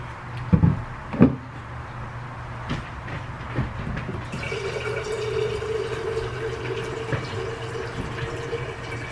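Film developer liquid pours steadily into a container with a rising trickling tone, preceded by a couple of knocks and clinks.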